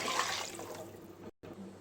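Water splashes steadily into a cooking pot while pulao is being made, a close rushing pour that fades and then breaks off with a brief cut.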